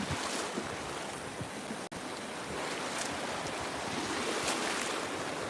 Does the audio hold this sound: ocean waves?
yes